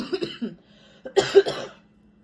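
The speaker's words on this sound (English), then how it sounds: "I'm so tired of coughing." A few harsh coughs in a quick burst after a brief stretch of quiet, close to the microphone, with a short pause before a second cluster.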